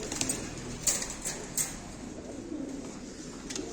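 Soft, low cooing of Diyarbakır pigeons in a quiet space, with a few sharp clicks and faint chirps scattered through.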